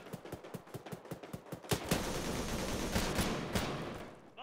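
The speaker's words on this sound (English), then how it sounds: "Don't worry about the shots" Gunfire in the Arma 3 video game: a run of sharp, evenly spaced shots, then a denser, sustained burst of firing, with no talking.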